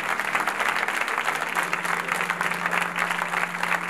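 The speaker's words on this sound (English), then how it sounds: "A big round of applause." Audience applause fills a hall at a religious lecture in India, a dense steady clapping that holds at a loud, even level for the whole stretch, with no voices breaking through.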